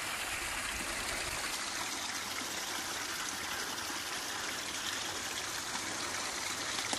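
Spring water pours steadily through a catchment system in the woods, a continuous close, full rushing and trickling wash with no pauses and no voices.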